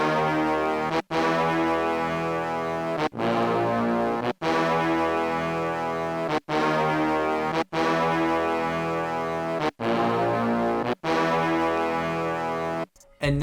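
A slow, simple chord progression voiced on a Vinexi brass one-shot in FL Studio, with long, dense, blaring brass chords held about two seconds each, separated by short gaps, loud and without other instruments.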